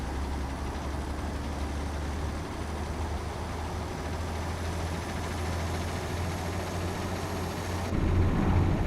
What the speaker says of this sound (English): It's supposed to be kind of a quiet engine.